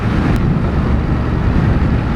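Ducati Monster 1200 S engine running steadily at high revs while riding, a loud continuous low rumble mixed with heavy wind buffeting at the microphone, no talk.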